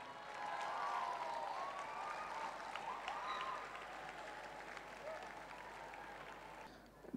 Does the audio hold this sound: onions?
no